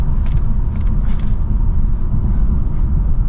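A 2023 BMW 540i accelerating, heard from inside the cabin as a loud, steady low engine and road rumble with no pauses and no talking.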